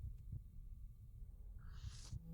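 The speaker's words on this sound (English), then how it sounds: "you can hear a heartbeat" A heartbeat in the video game CrossCode, a few low muffled thumps pulsing beneath a quiet hum, with a brief brighter electronic whoosh rising near the end.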